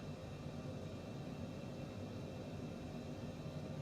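Private jet engine in a flight simulator: a steady, broad jet roar fills the whole stretch at an even level, with no clear rise or break and no talk over it.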